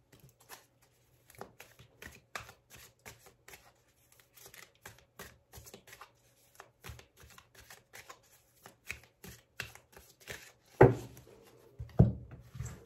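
A deck of tarot cards being shuffled by hand, quick soft riffles and slaps repeating through the clip, with louder card handling near the end, no talking.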